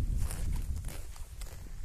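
Footsteps walking outdoors in a game-like scene, a steady run of fairly close, muffled steps over a continuous low rumble, with no talk.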